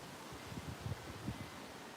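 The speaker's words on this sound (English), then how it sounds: "It is so windy out here that the wind is blowing the stand." Wind gusts and rushes through a garden, a broad continuous noise with soft buffeting thumps against the microphone as it shakes the stand.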